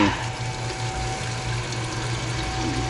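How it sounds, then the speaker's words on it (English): Coolant draining from hoses pushed down on a VW Audi 2.0L TFSI CCTA engine, a steady close trickling and pouring of liquid with a constant low hum underneath. "I like to just go ahead and shove the hoses all the way down so they drain"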